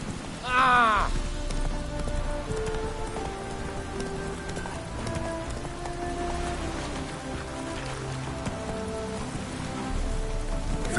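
Rain in the video game The Witcher 3, a steady patter on surfaces throughout, with a brief rising tonal sound near the start and faint background music and effects underneath.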